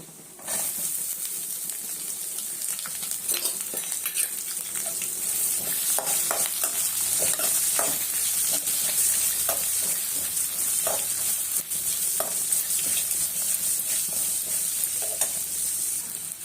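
Onions frying in a pan with dried red chillies for tamarind rice, a dense, steady sizzle with frequent light clinks and scrapes from stirring, close and fairly loud throughout, no speech.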